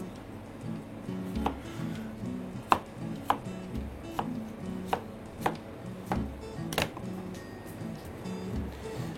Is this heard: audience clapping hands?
no